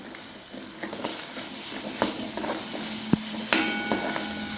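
Green chillies roast in a pan with a light sizzle and crackle, punctuated by close metallic clinks and taps of a spatula against the pan, with no talking.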